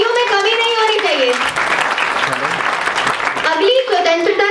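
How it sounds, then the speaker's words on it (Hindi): Applause from a school annual-function audience at a patriotic freedom-fighters role-play performance, a dense broadband clatter of clapping running throughout with strong music or voices layered over it at the start and end. "Just give a round of applause"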